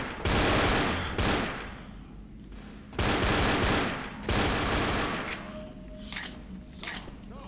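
Rapid pistol fire in the co-op zombie shooter Left 4 Dead, with loud, dense bursts of quick shots repeating in several volleys and quieter scattered shots near the end.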